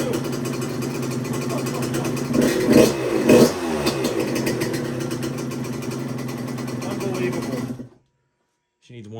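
A 1996 Suzuki RM125 motorcycle engine, freshly started after a new CDI, runs close and loud at a rough idle with a couple of sharp revs early on, then cuts off abruptly near the end.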